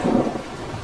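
Heavy rain with a deep rumble of thunder in a cartoon forest storm that floods a bird's nest, loud and continuous low roar with a heavier burst early on, no voices.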